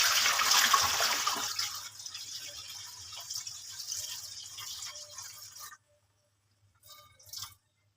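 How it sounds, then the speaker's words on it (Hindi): Muddy water from washing spinach is poured out of a cooking pot, a broad splashing gush that slowly thins out, then stops, followed by a brief final trickle; no one speaks. "मैं पानी नीचे गिरा के आप लोगों को दिखाती हूँ कि इसकी तह में कितनी मट्टी है।"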